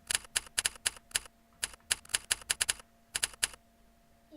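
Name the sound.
typing on Razer computer keyboard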